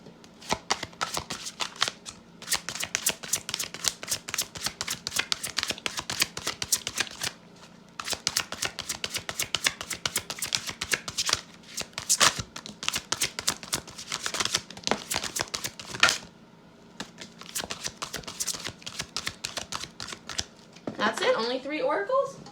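Rapid riffling of a deck of tarot cards being shuffled, bursts of crisp flicking clicks repeated over and over with brief pauses, close up.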